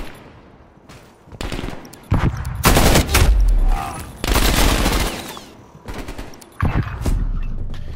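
Bursts of automatic gunfire in Call of Duty: Black Ops Cold War, loud rapid volleys with short pauses between them, repeating several times through the clip.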